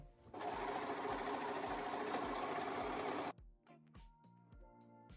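A sewing machine stitches fabric in a loud, steady run of rapid needle strokes for about three seconds, then stops abruptly, leaving a few soft clicks and tonal tapping of handling afterwards.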